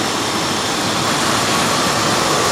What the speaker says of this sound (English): The engine's running.